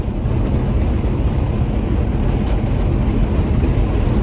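A 1975 International Harvester 150 pickup cruises in fourth gear, a loud, steady engine drone and road rumble filling the cab without a break.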